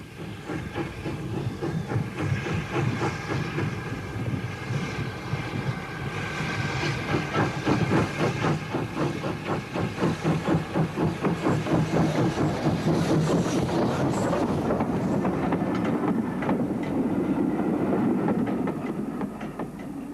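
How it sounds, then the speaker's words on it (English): An ex-LMS Caledonian 0-4-4 tank steam locomotive working on a Scottish preserved railway beside the River Forth, with steady hissing steam and a rhythmic chuffing beat that builds as it runs, alongside rolling rail clatter. "Currently, this is the only working ex-LMS Scottish locomotive"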